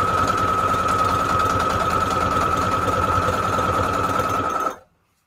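A sewing machine running a straight stitch on junk journal spine material, a steady loud mechanical whir with a rapid, even needle clatter that runs without pause for nearly five seconds and then stops abruptly.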